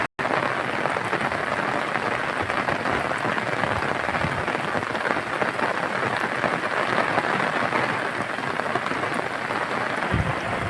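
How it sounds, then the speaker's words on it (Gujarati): Heavy rain pours steadily over open cotton fields in monsoon weather, a dense, continuous hiss of drops falling close by with no pauses, lasting throughout without any voices. "આવી રીતે વરસાદ પડે છે ફૂલે ફૂલ"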